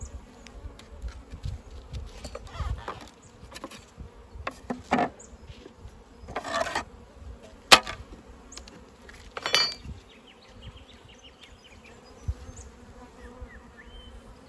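Honey bees buzzing around an open beehive during a late-season brood inspection: close, intermittent buzzes as individual bees fly past, rising and fading, with soft clicks and frame handling in between.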